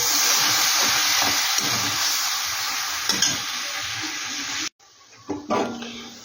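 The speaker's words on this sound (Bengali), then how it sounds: "এবার মশলাটা কিন্তু আমি ভালো করে কষিয়ে নেব।" Spice paste for a fish curry fries and is stirred in a pan, a dense continuous sizzle with soft scraping strokes, then it cuts off abruptly before a few scattered clatters and a brief return of frying noise.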